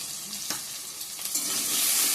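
Potatoes and tomatoes, salted, fry in a pan with a steady close sizzle that swells toward the end, broken by a couple of soft stirring knocks; nobody talks.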